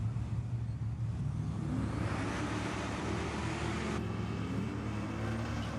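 A drag race car launches down the track at Aeroflow Race 4 Real, a loud, continuous engine roar building steadily with broadband noise and no pause.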